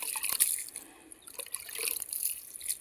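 Water poured onto soil outdoors, a light, close splashing and trickling with small drips that comes in uneven bursts over a few seconds, with no other sound around it.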